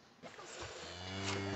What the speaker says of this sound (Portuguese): Subimos para ordeñar a vaca maleada